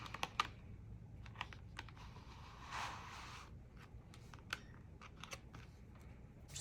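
Scissors snip paper pieces for a Christmas craft project, a series of soft, quick, close cuts with small gaps between them over a quiet room.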